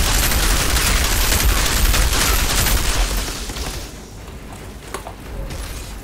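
Loud, dense weapon fire in the video game Outriders, a continuous rapid barrage for about four seconds that thins into scattered shots and booms.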